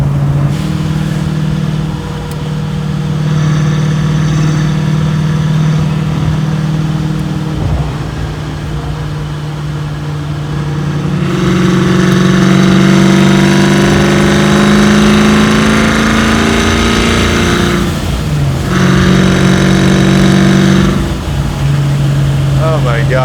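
The Procharged 800 hp LT4 V8 in a 1968 Chevy Camaro hums loudly from inside the car, rising in pitch as it revs through gears, with a brief break midway.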